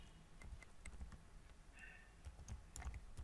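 A URL being typed on a computer keyboard, a quiet run of irregular close key clicks and taps lasting a few seconds, with no talking.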